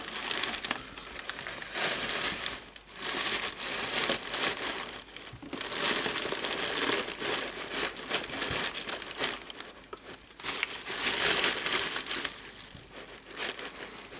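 Plastic bags crinkle and crush steadily and up close while a finished scale model is packed, a continuous rustling that runs throughout with brief pauses and no talking.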